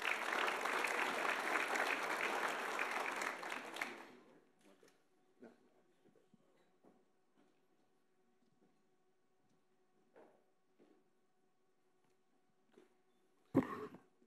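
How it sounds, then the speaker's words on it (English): A sports awards banquet audience claps for a college coach, a full burst of many hands for about four seconds that stops abruptly, followed by a quiet room with scattered coughs, small clinks and a sharp knock near the end. "Let's give Pete a little round of applause here."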